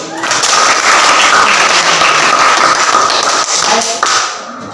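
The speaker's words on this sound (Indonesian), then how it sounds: "Sekali lagi kita berikan aplaus." Classroom audience clapping together, a dense burst of applause that stays loud for about four seconds before thinning out, with a voice talking alongside.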